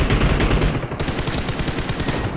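An SKS sniper rifle fires in a shooter video game, a loud, close run of rapid sharp shots packed tightly together with no pause.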